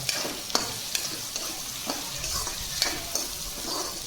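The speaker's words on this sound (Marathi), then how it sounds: "तर आता ह्याच्यामध्ये आपण शेंगाचं बी घालून घेऊया" Peanuts fry in a pan while kanda poha is being prepared, a steady low sizzle broken by light stirring scrapes and small taps of a spoon.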